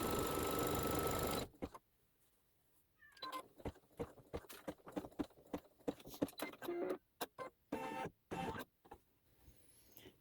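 A sewing machine tacks down quilt batting for a quilt block in a series of short, quick stitching bursts separated by brief pauses, close and clear, after a loud opening whir.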